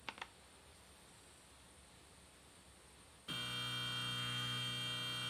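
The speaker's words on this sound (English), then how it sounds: "That's the motor and the buzzer." A few faint clicks over quiet room hiss, then a homemade gear-cutting index driver's motor and buzzer switch on abruptly with a steady electric buzzing tone that holds loudly to the end.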